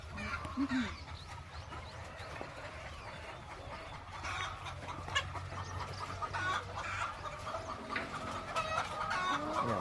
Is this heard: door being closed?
no